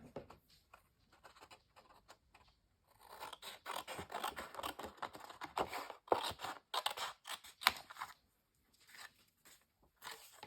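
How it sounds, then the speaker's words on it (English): Scissors snip through an old tissue-paper sewing pattern to cut out a row of printed buttons for a junk journal, close crisp cuts in uneven bursts with short pauses between, alone without talk. "I think we'll cut down that row of buttons there."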